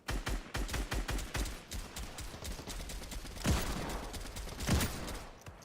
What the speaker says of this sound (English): Ooh, that was a headshot.